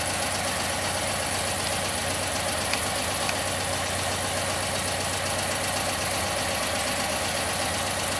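A 1974 VW Super Beetle idles right after an engine swap, running again after three years dead, giving off a steady, even engine drone throughout.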